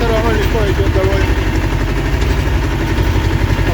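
A T-25 tractor driving a Bomet rotary tiller through soil, its engine running loud and steady below full throttle with a low, even rumble. Someone talks over it.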